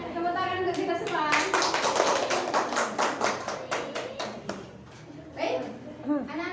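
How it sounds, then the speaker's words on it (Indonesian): Schoolchildren in a classroom clap in unison, a quick steady patter of hands that rises and then tails off into a few scattered claps, with children's voices chattering around it. "Tepuk tangan untuk kita semua."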